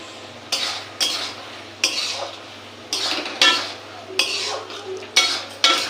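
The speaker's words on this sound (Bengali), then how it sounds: "সয়াবিনগুলো দিয়ে দিচ্ছি।" Soybean chunks tipped into a boiling pot for soybean chilli, with a run of repeated metal clanks and scrapes of utensil against pot at a steady, close pace over a low steady hum.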